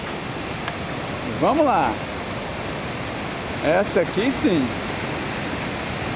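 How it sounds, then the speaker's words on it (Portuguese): A large waterfall swollen by days of rain roars as a steady, loud wash of noise beside a metal walkway, with a voice speaking briefly twice over it. "é uma cachoeira de respeito."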